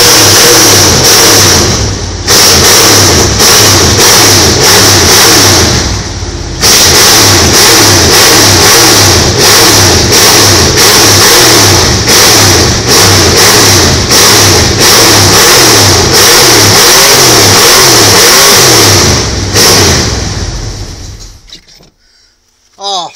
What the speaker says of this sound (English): 350 racing engine